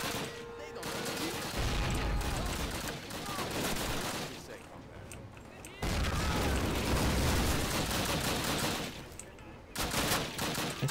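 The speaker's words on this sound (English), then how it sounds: "That's a grenade." Grenade blast and gunfire from a Call of Duty World War II shooter game, dense bursts of rifle and machine-gun fire with heavy booms, loud and sustained throughout with a brief lull near the middle.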